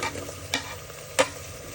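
Tomatoes go into hot coconut oil in a pressure cooker, giving a faint steady sizzle with two quick stirring scrapes.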